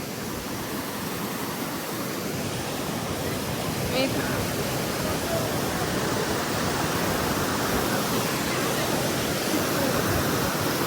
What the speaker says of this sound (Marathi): इतकं पाणी वाहतंय बघा